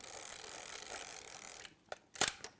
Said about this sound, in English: Wind on to the next.